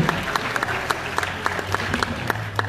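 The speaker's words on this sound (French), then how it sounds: "Merci à vous, pour l'applaudir, Pascal Lambier." Steady audience clapping at moderate volume, with individual claps standing out over a low hum of room noise.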